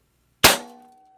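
Hatsan Vectis lever-action PCP air rifle firing a single sharp, loud shot up close, followed by a short metallic ringing decay.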